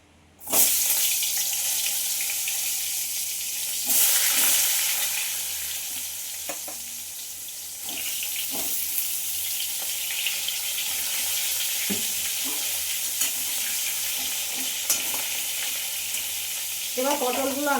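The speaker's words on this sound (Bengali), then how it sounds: "এবার নুন হলুদ মাখানো পটলগুলো আমি ভালো করে ভেজে নেব।" Pointed gourd coated in salt and turmeric sizzles steadily in hot oil in a kadai, a continuous close frying hiss broken by occasional stirring clatter and small pops, with no talking.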